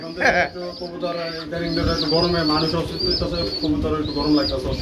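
A crowd of pigeons, part of a lot of forty pairs kept with eggs and chicks, coo continuously with low, throaty rolling calls and occasional chirps, close and moderately loud.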